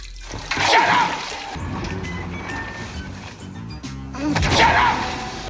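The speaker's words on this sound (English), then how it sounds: "He really flushed her back down the toilet, bro." A toilet flushes in an anime scene, a rushing, splashing swirl of water that surges loudly at the start, churns through the middle and swells again at the end, with no talking over it.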